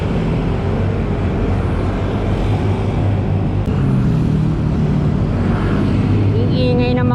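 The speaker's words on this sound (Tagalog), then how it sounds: "Ang ingay ng mga sasakyan." Dense, steady road traffic along EDSA, a constant loud roar of passing cars and engines close by with no break, filling the whole stretch.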